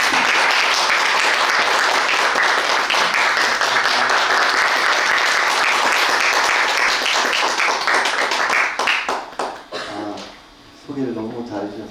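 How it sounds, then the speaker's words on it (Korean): A school information-session audience claps steadily to welcome a headmaster giving a talk, a dense sustained wash of applause that thins into scattered claps and fades near the end, with a voice starting up afterward. "박수로 시작하겠습니다."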